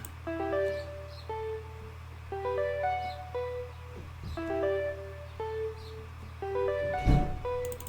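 Simple electronic keyboard melody of short plucked notes in a repeating pattern over a low hum, with a soft swish near the end.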